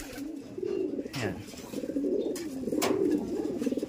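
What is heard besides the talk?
pigeons cooing after being released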